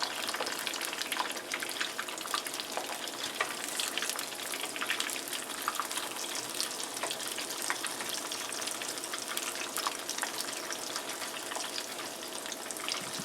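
Food for a Honduran breakfast frying in hot oil until brown, a steady dense sizzle with scattered crackles and pops running close and continuous throughout, with no talking.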